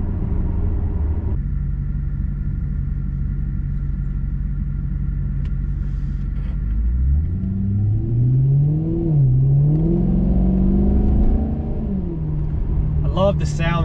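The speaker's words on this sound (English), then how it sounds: "I love the sound that this car makes. Such a unique, distinctive sound." Maserati engine on a night drive, holding a low steady drone, then revving with rising and falling pitch as the car accelerates, close and prominent throughout.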